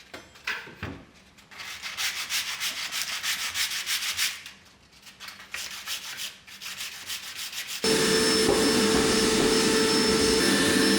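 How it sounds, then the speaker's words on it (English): Sanding of smoothed plaster during a home renovation, a steady abrasive rubbing that swells and pauses in strokes, then turns into a continuous, louder whine like a vacuum or power sander near the end. "But I actually still need to sand this bit."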